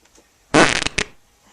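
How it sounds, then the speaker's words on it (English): A single loud fart, a sharp broadband burst lasting about half a second with a brief second puff right after, alone in a quiet room. "I really have to fart"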